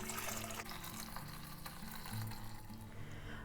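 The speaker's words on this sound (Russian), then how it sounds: "Мы эту прекрасную овощную композицию заливаем вкусным куриным бульоном." Chicken broth is poured over vegetables in a pot, a quiet, continuous trickle and splash of liquid.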